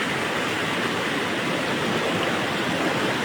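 Floodwater current rushes through a breached embankment and over a road in Mohanpur, a loud, steady, dense roar of churning water with no pauses or voices.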